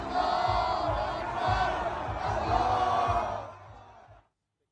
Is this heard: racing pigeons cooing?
no